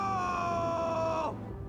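A man, pinned beneath a 900 kg ATV, lets out a long, strained, desperate scream for help that holds steady and then cuts off abruptly, loud and close.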